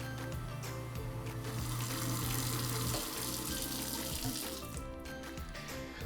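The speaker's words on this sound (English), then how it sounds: "Turn the water on, let it run" Kitchen faucet running steadily into a single sink fitted with a garbage disposal, a continuous close splashing rush of water lasting several seconds with no talking.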